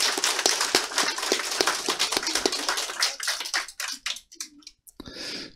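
A room of attendees at a Korean Republican Party (Our Republican Party) joint meeting of officials claps together, a loud steady patter of applause that thins out and trails off into scattered last claps.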